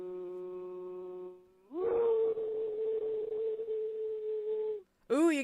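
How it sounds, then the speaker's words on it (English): A weird, drawn-out howl at the end of a phone recording, closing a sung birthday greeting. A steady, moaning tone holds for about three seconds, then breaks off, and a brief rising wail follows. "Ooh, you get that little, like, weird howl at the end, too."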